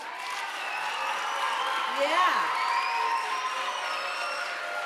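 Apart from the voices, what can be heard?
audience applause and cheering at oratory festival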